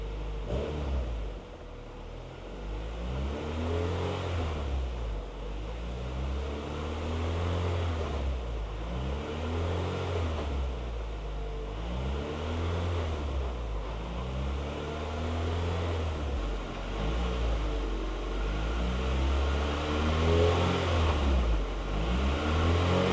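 A 1996 Honda Integra Type-R DB8 engine on a lift during a test run after a clutch replacement, a steady droning hum with repeated rising and falling rev cycles in a slow regular rhythm, close and continuous, no voices.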